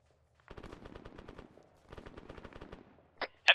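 Heavy machine-gun fire rattles in a video game military battle, with two rapid bursts of many shots each, fairly distant, followed by two sharper, louder cracks at the end.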